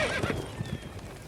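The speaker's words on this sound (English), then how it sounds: "Whoa there, Roach" A horse in The Witcher 3 video game whinnies loudly and close while hooves clip-clop in quick steps beneath it, all within a little over a second.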